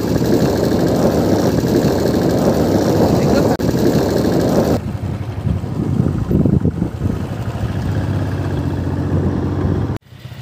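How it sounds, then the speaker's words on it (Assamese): A motorcycle engine at a picnic spot rumbles loudly nearby for about five seconds, then cuts out abruptly, leaving quieter background noise and voices talking. "তো চাওঁ কিমান যাব পাৰি বাইক লৈ।"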